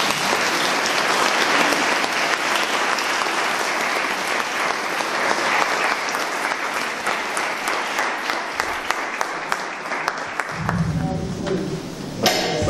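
An audience gives sustained, dense applause after two girls recite poetry from memory at a music and poetry event. The clapping stays steady for most of the stretch, then thins near the end as a few louder thumps and low sounds come in.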